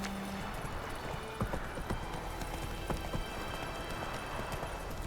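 Roach, Geralt's horse in The Witcher 3, clip-clops at a slow walk, with irregular hoof thuds over a steady outdoor ambient bed and no speech.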